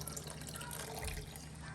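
Red bean water pours into a pot of Guyanese lamb cook-up, a steady, soft liquid splash and trickle running without pause.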